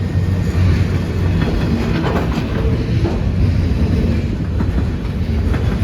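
CN eastbound manifest freight cars, led by an ET44AC locomotive, roll steadily past Mission City Station, a continuous close rumble with faint clickety-clack of wheels on rail joints throughout, no voices.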